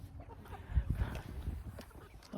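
Backyard chickens clucking quietly at close range as they gather for watermelon scraps, soft scattered clucks and scratching with a person's voice nearby.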